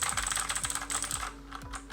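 Typing on a Redragon K552 mechanical keyboard, a budget RGB board: a steady run of close, crisp key clacks at a brisk irregular pace, with no voice over them.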